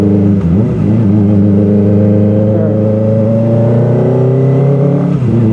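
A Kawasaki ZX-25R Limited Edition motorcycle engine revs loud and close, climbing steadily in pitch past 4000 RPM and holding a high whine before dropping off at the end.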